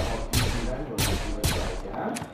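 A blaster weapon firing in a Fortnite Star Wars video game, three sharp evenly spaced shots followed by a fainter fourth, each with a quick falling whine, close and loud.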